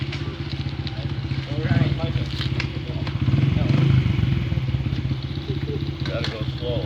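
A motorcycle engine runs on a bike ride: a steady, close, loud rumbling putter that swells briefly twice, with people talking over it.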